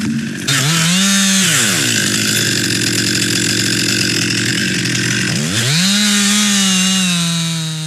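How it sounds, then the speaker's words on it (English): A Stihl MS-261, a relatively small chainsaw, cutting a tree: the engine revs up sharply, holds a loud, steady high-rpm buzz through the cut, then drops and revs up again, close and with no talk. "I'm using just an MS-261 steel. This is a relatively small chainsaw."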